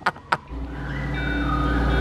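A car reversing nearby: two sharp clicks, then a steady engine drone and rising whine of the vehicle backing up, with a high electric tone layered on top.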